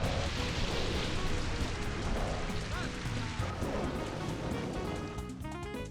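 Rain from the Rain Dance move in Pokemon Colosseum pours as a steady, loud hiss of dense rainfall that fills the scene, with a faint voice underneath.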